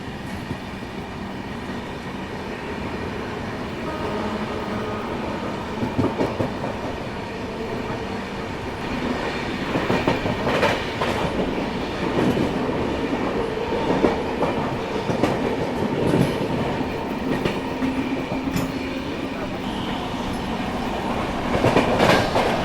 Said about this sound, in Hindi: और ये नैनी जंक्शन का स्किप हो रहा है, बहुत ही स्लो स्पीड में हो रहा है ये स्किप।